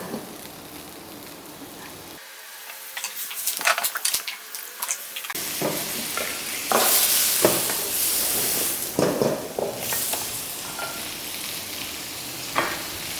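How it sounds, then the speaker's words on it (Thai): Shrimp and squid stir-fry in butter for seafood spaghetti sauce, bursts of loud sizzling and scraping of the pan rising and falling near the microphone, with no speech. "เนยเขาจะเข้ามาใน ในส่วนของกุ้งแล้วก็ปลาหมึกนะคะ ผัดให้สุกนะคะ"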